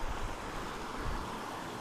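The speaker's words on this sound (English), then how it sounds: "Following this wonderful waterfall all the way up this climb." A waterfall beside a hiking trail on a climb between Hogback Ridge Shelter and Erwin, Tennessee, makes a steady, loud, continuous rushing roar with no pauses.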